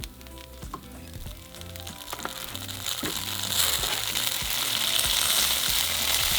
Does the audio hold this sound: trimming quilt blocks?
no